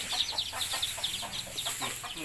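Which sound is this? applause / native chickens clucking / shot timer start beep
native chickens clucking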